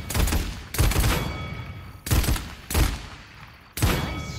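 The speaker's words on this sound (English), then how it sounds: "Nice shooting." Weapon fire in the game Paladins comes in loud, close bursts, five sharp blasts at irregular intervals, each followed by a short rumbling decay, with no voices.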